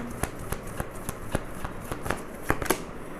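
Tarot cards are shuffled close up in a run of crisp riffling snaps, about a dozen sharp bursts spaced through a few seconds, with no talking.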